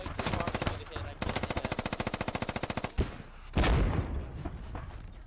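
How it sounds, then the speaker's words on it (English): In the Squad military shooter, vehicles exchange 30mm cannon fire and DShK heavy machine gun fire. Rapid bursts of loud automatic shots come in two long runs, followed by a heavy boom and a lingering rumble. "30 mil and Dishka rounds being traded between vehicles"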